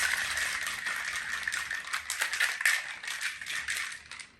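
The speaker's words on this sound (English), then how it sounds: "1 ounce of lime juice, give that a good shake." A cocktail shaker filled with ice and lime juice is shaken vigorously, giving a loud, continuous rattle of ice against metal for several seconds.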